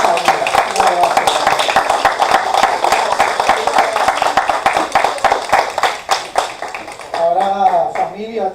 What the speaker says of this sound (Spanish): Un aplauso al Cristo de la gloria por esta vida.